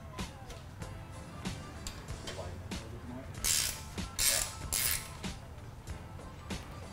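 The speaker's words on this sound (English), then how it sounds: "First, you want to loosen both of the bolts." Bolts being loosened on a flip-flop bicycle hub: quick ratcheting clicks and metallic clinks, close and fairly quiet, with a few louder bursts of tool noise in the middle.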